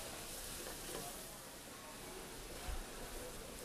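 Bell pepper, onions, mushrooms and garlic fry in a pan with a steady, close sizzle and occasional stirring scrapes, a dense hiss throughout, with faint voices underneath.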